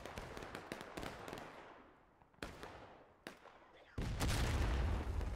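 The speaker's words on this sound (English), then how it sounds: "Shells coming in." In the Civil War game War of Rights, incoming artillery shells explode in a scattered series of sharp, booming cracks with rumbling tails, some distant and some nearer, ending in a heavier, sustained blast.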